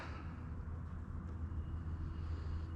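A steady, low mechanical drone with a rough, churning texture from a power steering pump cavitating with air in the system, holding constant throughout with no voices.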